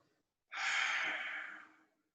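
A single long, breathy exhale during a yoga session, close and clear, rising quickly and fading out over about a second and a half, with no talking.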